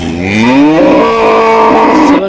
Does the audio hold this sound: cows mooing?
yes